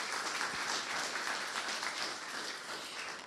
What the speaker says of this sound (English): So let's give Mark a round of applause